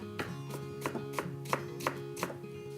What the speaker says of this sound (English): I'm just dicing up some purple cabbage